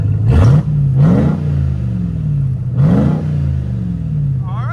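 A RAM TRX with a Dynomax race bullet exhaust is revved hard three times. Each blip climbs in pitch and then falls back to a deep, loud rumble, heard close.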